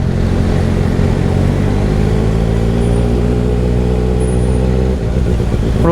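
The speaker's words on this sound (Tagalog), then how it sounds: "Sobrang traffic naman dito." Heavy, slow-moving road traffic in the Philippines, with car engines idling and droning loudly close by and a vehicle's engine note rising and shifting near the end, with no talk.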